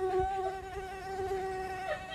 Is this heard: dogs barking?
no